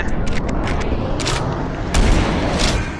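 Sustained gunfire aimed at a boss in the first-person shooter Doom 3, a dense, booming barrage that runs continuously at high volume with no talk over it.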